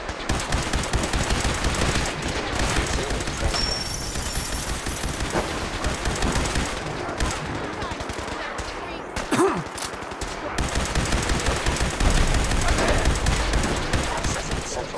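Sustained automatic gunfire in the Fallout 4 video game, loud and close, dense rapid bursts with a brief lull midway before the shooting resumes heavily, a robotic voice speaking over it.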